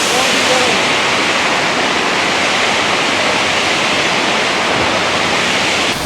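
Water from the Blue Lagoon in the Philippines rushes in a steady, loud, broadband wash, near and unbroken from start to finish, with no voices over it.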